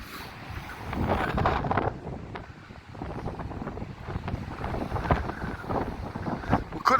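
Strong wind gusts across Blackpool promenade on a rough day, buffeting the microphone in uneven, moderately loud bursts with no voices.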